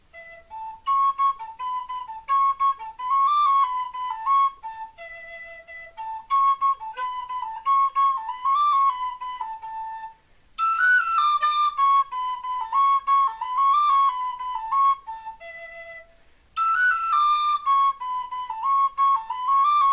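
A bright, high Romanian shepherd flute melody plays solo in lively phrases, with brief pauses between runs and ornamented trills.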